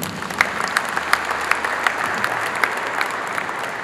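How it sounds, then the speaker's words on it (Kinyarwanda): A church congregation applauding after a funeral Mass, sustained even clapping from many hands with a few sharper individual claps standing out, moderately loud throughout. "mwamumpera amashyi menshi cyane"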